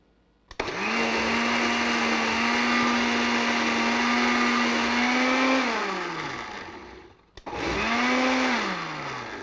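A blender running on vegan creamy Italian dressing, a loud steady motor whine for about five seconds that winds down, then a second shorter burst after a brief stop.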